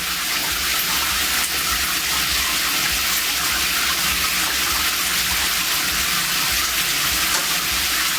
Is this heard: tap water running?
yes